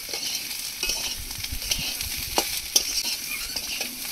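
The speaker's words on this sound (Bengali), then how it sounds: "কচুগুলো 2-3 মিনিট ভেজে নেব।" Taro pieces fry in a small amount of oil left over from frying fish, giving a steady close sizzle with intermittent scraping and stirring clicks from a utensil against the pan.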